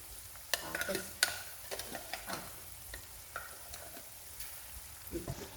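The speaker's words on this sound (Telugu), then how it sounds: "ఇప్పుడు ఇట్లా కలిపేసుకోవాలి పోపుతో పాటు" A spoon stirs gongura (red sorrel) chutney into a hot tempering in a pan, giving soft irregular scraping strokes over a faint, steady sizzle of frying, close and fairly quiet with no talking.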